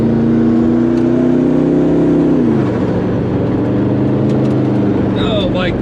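Koenigsegg Regera supercar pulling hard while warming its tires, a loud sustained engine drone that holds steady then drops in pitch midway, with brief tire squeal near the end and voices talking over it.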